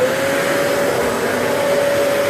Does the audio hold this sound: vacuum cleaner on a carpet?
yes